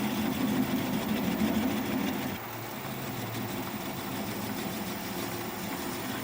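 Wood lathe spinning while a small candle holder is turned with a gouge, a steady mechanical hum that drops to a lower, quieter drone partway through as the speed is reduced.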